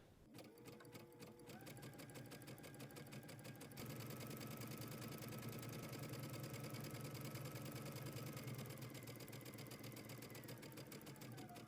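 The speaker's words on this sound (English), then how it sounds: "I'm going to stitch from one end all the way around to the other, sewing close to the inner folded edge" A sewing machine stitches along the folded hem of a skirt for a house dress, running in a steady, dense mechanical whir that speeds up slightly after a brief slower start and holds continuously, close and moderately quiet.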